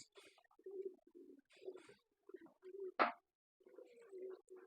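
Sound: pigeon cooing

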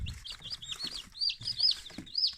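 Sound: newly hatched chicks peeping in an incubator

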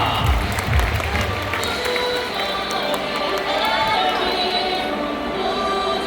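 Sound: baseball stadium crowd applause welcoming first pitch guests

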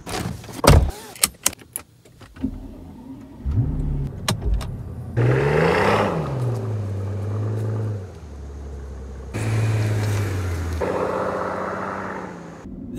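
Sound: car driving

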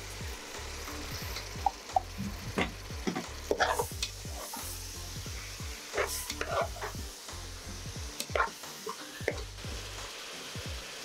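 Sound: curd and tomato frying and being stirred for paneer pulao

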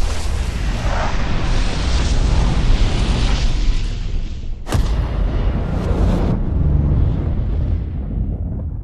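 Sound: binary explosive detonations from rifle bullet

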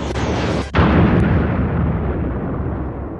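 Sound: Death Star exploding, Star Wars movie sound effect

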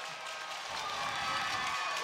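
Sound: crowd cheering and applauding after a hockey goal

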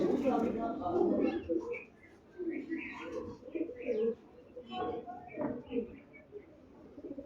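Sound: pigeon cooing, red china breed

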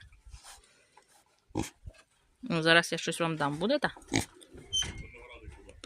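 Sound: pigs grunting and oinking at feeding

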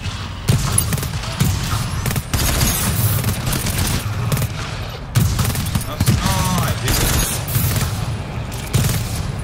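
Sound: sentry gun firing in the video game GTFO

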